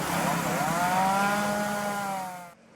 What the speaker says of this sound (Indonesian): Menggunakan gergaji mesin, petugas BPBD Subang menebang sejumlah pohon besar yang berada di tepi jalan raya Pantura Pamanukan Subang Minggu sore.